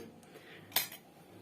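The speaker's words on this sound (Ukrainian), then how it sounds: "тепер прикриваю кришечками і відправляю у каструлю на стерилізування" Glass jars of tomatoes with lids set down into a cooking pot for sterilizing give a single sharp clink of glass on metal, close and brief, against a quiet kitchen background.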